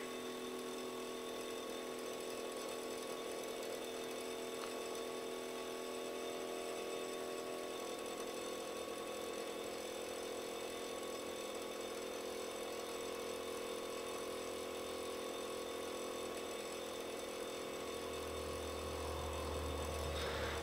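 A small DC motor runs steadily from an LM2577 step-up converter module, a continuous whine with faint constant hum throughout, a low rumble rising near the end.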